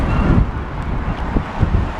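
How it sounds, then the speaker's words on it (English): Strong wind buffets the microphone outdoors during a walk around a derelict hotel awaiting demolition, making loud, uneven low rumbling gusts that fill the whole clip. "I do have my back to the wind."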